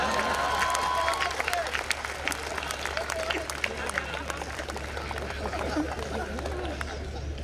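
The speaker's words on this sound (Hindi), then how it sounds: "अब आपकी तालियां उठेंगी" Applause from a seated audience at a Hindi kavi sammelan poetry gathering, a dense steady patter of clapping spread through the hall with a murmur of crowd noise underneath, continuing evenly for several seconds.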